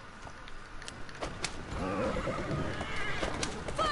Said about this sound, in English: Horse just stopped of his own volition.